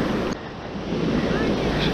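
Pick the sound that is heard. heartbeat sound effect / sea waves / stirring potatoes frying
sea waves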